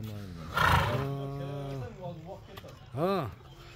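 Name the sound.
horse neighing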